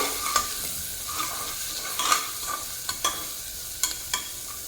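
A spoon stirs bottle gourd and shrimp curry with salt and turmeric in a pressure cooker pan, scraping strokes at an uneven rhythm over a soft continuous sizzle, close and clear with no talk.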